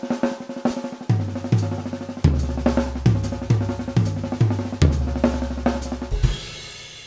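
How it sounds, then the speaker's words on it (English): A jazz drum fill spread across toms and cymbals: a run of punchy low tom hits in quick succession mixed with cymbal crashes, ending on a washy cymbal decay. Played close and fairly loud, with no voices. "move it around on the toms, cymbals, and that sounds like this"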